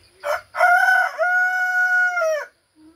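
A rooster crows once, close and loud, with a short rising lead-in and a long sustained held note that drops off at the end; a faint call follows briefly after.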